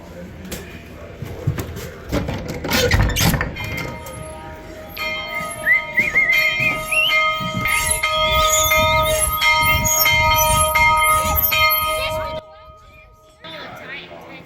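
An alarm bell rings loudly in an 1880-style western town fire hall, a sustained clanging ring with whistle-like tones for about twelve seconds before cutting off, with brief knocks and louder bangs early on.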